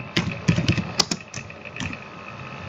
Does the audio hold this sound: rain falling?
no